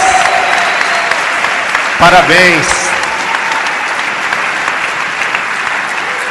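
A church congregation applauds loudly and steadily throughout, a dense sustained clapping with a voice speaking briefly over it partway through.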